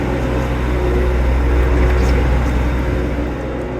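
Generator running at a house build in the Philippines, set up with the doors open for airflow; a steady, loud, continuous engine drone with low hum that stays constant throughout, with no talk over it.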